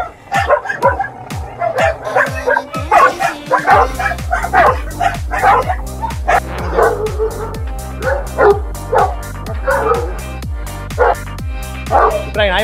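Dogs at a dog farm in Attur, Salem bark loudly and repeatedly, several animals yapping and woofing close by in rapid overlapping bursts, with whimpers between and a rhythmic mechanical thumping underneath.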